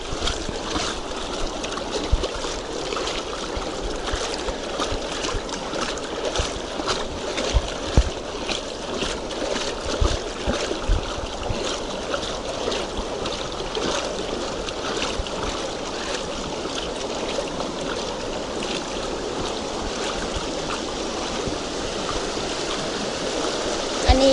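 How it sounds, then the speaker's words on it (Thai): Strong, fast-flowing floodwater rushes steadily past, a continuous churning wash with scattered splashes and knocks, fairly close and moderately loud, with no talk. "นี่น้ำไหลแรงมาก"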